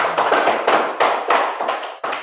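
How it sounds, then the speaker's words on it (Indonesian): Children in a classroom clap their hands together in a few loose, rhythmic bursts, close by and fairly loud, with no talking over them. "Tepuk tangan dulu untuk kita semua"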